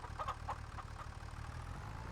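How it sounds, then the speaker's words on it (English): Chickens on a farm in the video game Farming Simulator 25 cluck faintly in short bursts over a low, steady idling engine hum. "we're feeding our chickens"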